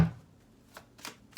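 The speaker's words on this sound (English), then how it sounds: "now I'm going to pull you a romance angel card" Oracle cards are pulled and handled from a romance angel deck in a few soft papery flicks and slides after a brief initial thump, quiet and close with no speech.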